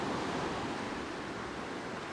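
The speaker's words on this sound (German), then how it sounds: "Der Wellenrausch für euch." Steady, broadband surf from sea waves at the beach promenade in Side, a constant rushing roar with some wind, no voices.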